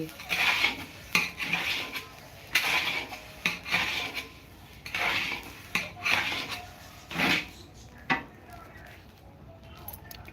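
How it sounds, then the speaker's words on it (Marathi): Millet roasting with coriander seeds in a pan for yesur masala, a rhythmic dry scraping and rattling as the grains are stirred, repeating every second or so, close, with faint talk in the background. "हे बाजरी बाजून ह्याच्यात धने टाकून येसूर मसाला बनवत आहे"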